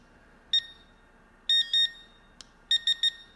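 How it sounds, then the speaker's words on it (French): Short electronic beeps from a waterproof pinpointer metal detector in bursts: one, then two, then three quick high-pitched tones, clear against a quiet background with a faint click between. "3 bips, ça veut dire qu'il est à fond."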